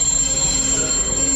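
Wheels of a Magic Kingdom loop train squeal loudly and steadily against the rails as it comes to a stop, a continuous high metallic whine over a low rumble.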